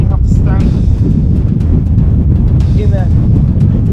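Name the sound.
strong wind blowing at Roman ruins in Albania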